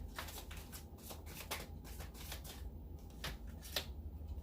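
Tarot cards being shuffled by hand, a steady run of soft riffling swishes and papery flutters that repeats through the whole stretch at close range, with no voices over it.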